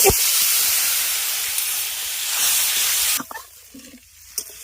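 Water poured into frying mustard paste in a home kitchen hisses and sizzles loudly and steadily for about three seconds, then cuts to quieter bubbling and clinks.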